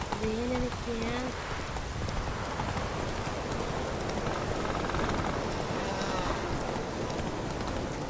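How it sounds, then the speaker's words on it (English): Steady, dense rain falling in The Witcher 3: Wild Hunt, a continuous hiss throughout, with a short musical or tonal cue near the start. "Raining again."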